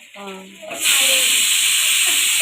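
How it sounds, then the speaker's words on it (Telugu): A batch of about fifteen pieces coated in maida, mixed masalas and lemon hits hot oil for deep frying. A voice sounds briefly at the start before a loud, steady, broad sizzling hiss takes over. "మైదా ప్లస్ అన్ని రకమైన మసాలాలు లెమన్తో మ్యారినేట్ చేసి ఆయిల్లో డీప్ ఫ్రై చేశాను"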